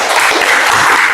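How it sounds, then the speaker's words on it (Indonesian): Classroom applause for a student named Naisa, a dense steady patter of many hands clapping at close range for just over a second, with no talking over it. "Tepuk tangan dulu untuk Naisa."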